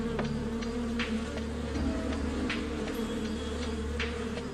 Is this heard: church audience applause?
no